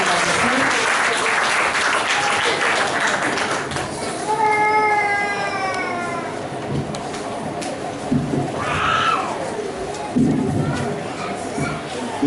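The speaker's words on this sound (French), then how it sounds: "Nous applaudissons le Seigneur pour la bénédiction" Church congregation applauding the Lord, dense clapping that rises and falls, with a voice and scattered vocal sounds rising over it mid-way.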